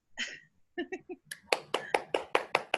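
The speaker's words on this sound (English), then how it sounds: "He deserves a round of applause" Clapping breaks out at an evening orientation meeting, a brief voiced sound first, then a run of sharp, evenly spaced claps that are close and fairly loud.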